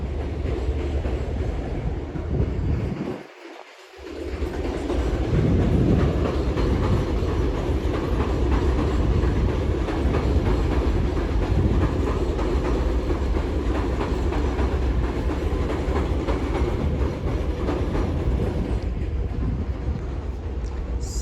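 A train rolls slowly around a curve with a continuous heavy rumble and metallic rattling, loud and steady for a long stretch, briefly dipping near the start.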